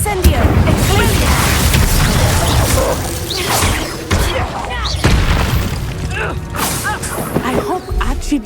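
An explosion spell in the Hogwarts Legacy video game bursts into heavy booms layered with whooshes and clattering combat effects in a loud, continuous fight mix, with voices calling out.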